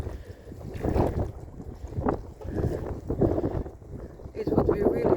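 Cold wind gusts across a riverside on a bright day, rumbling and buffeting the microphone in uneven surges that rise and fall.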